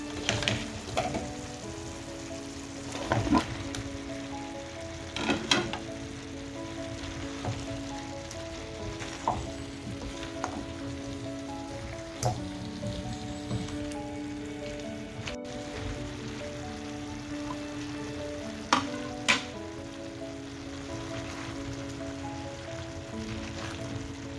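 Squash being stirred into sautéing pakbet vegetables with tuna, a steady close sizzle of frying under repeated scraping and stirring knocks from a utensil against the pan, with no talk.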